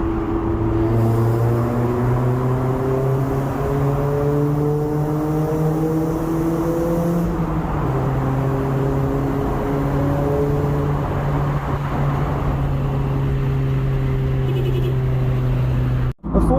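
A Honda CRX 1.6 with a D16A9 engine revving while driving, a loud, close, continuous engine drone whose pitch climbs, drops at a gear change, then climbs again, ending in an abrupt cut.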